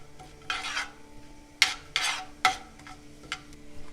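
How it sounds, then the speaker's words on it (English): Cinnamon, cardamom, cloves, bay leaf and cumin seeds are added to hot oil in a pan for jeera rice. A spoon scrapes and stirs against the pan in several distinct strokes over a low, steady sizzle. "Once the oil is hot, add the spices, the cinnamon, cardamom, cloves and the bay leaf, and also add the cumin seeds."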